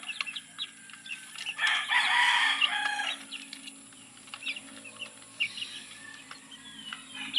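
Gamefowl chicks chirp in a busy, high twittering chorus during feeding, with a louder burst of peeping early on and softer scattered cheeps afterwards, heard close up.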